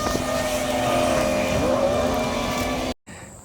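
Cars roll through a railroad crossing beside a rail trail, a steady road whoosh with a rising engine tone passing near, then cutting off abruptly near the end.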